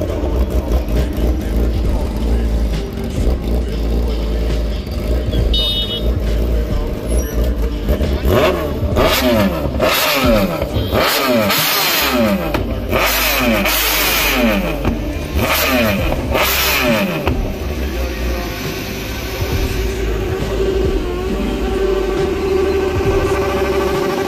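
A Porsche luxury car engine revs repeatedly, rising and falling in sharp throttle blips over a steady idle, loud and close, with a faint voice and background music underneath.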